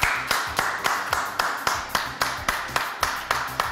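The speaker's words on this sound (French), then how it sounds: "C'est bien, vous applaudissez très très bien." A studio audience at a French talk show claps in unison, a strong regular beat of about four claps per second, loud and rhythmic across the whole stretch without speech.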